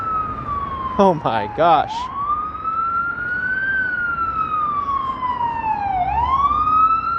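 Ambulance siren on a street in Queens, New York City, wailing loudly as it speeds past, its pitch sliding down as it moves away, with a few brief spoken words early on.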